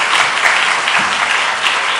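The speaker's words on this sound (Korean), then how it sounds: "박수로 크게 축하해 주시기 바랍니다" An audience at a church leader's inauguration ceremony in Pohang claps loudly and steadily, a dense, sustained wash of applause close to the listener, with no speech over it.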